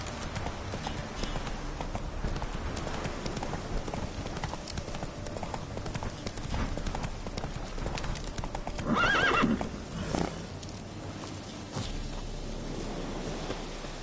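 Horse hooves clip-clop steadily in a PS4 video game, with a loud whinny breaking through midway over a low ambient backdrop; no one speaks.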